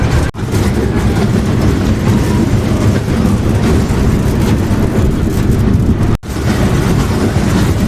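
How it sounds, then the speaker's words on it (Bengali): Dragon train children's amusement ride running at a large fair, a loud, continuous rumbling roar of wheels and machinery with brief dropouts and no talk. "ড্রাগন ট্রেন স্টার্ট হয়ে গেছে, চলছে"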